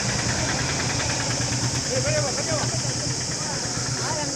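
A vehicle engine runs steadily and close by at a riverside bathing ghat, a constant rumbling drone under voices talking nearby.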